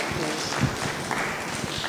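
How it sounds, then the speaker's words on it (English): Audience applause at a stakeholder engagement session on occupational qualifications, a steady dense wash of clapping filling the room, loud and continuous throughout, with no voices over it. "give yourself a round of applause for being here"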